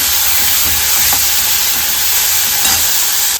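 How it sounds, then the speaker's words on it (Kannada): Tomato frying in a pan for a red chutney, a loud, dense continuous sizzle and hiss close up, with a few faint stirring scrapes and no talking. "ಇದು ಇವಾಗ ಟೊಮೆಟೊ ಹಾಕ್ಕೊಳ್ತಾ ಇದ್ದೀನಿ ಎಲ್ಲವನ್ನು ಚೆನ್ನಾಗಿ ಫ್ರೈ ಮಾಡ್ಕೋಬೇಕು"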